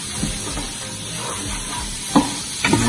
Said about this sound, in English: I'm gonna add the green onions to it. Some people say green onions, others say scallion. Either one, it's the same thing. So saute that really nicely.